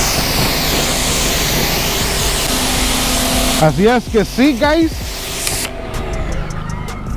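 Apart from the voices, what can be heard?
spraying Koch Chemie active foam off car paint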